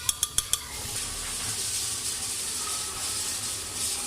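Ghee going into a hot Instant Pot with ginger and garlic for mutton korma, a soft steady sizzle and hiss after a quick run of four sharp clinks at the start, fairly quiet and with no talking.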